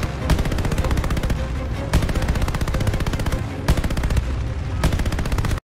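Rapid machine-gun fire from a rear gunner in the Call of Duty Vanguard Midway mission, heard as loud sustained bursts of automatic shots with brief gaps between strings, with no talking.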